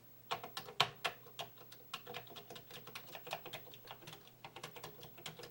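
Keys on a Commodore 64 keyboard are pressed one after another during fault testing, a close, quiet run of separate clicky taps at an uneven pace, with no talking.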